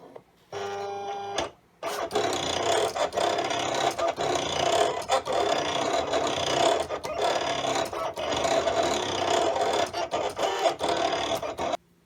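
A Silhouette Cameo 4 cutting machine draws with a pen holder: a short motor whir, a brief pause, then steady mechanical buzzing and whirring with quick stepping shifts as the carriage moves back and forth, close and continuous.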